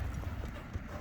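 A horse's hooves clip-clop as it is turned left and right, a few quick thuds, close and fairly loud.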